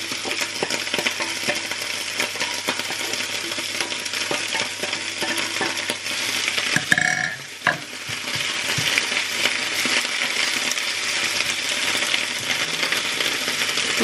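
Kale and spinach fry in a pan, giving a steady broadband sizzle throughout. A spatula stirs and scrapes once near the middle, and then the sizzling continues unbroken.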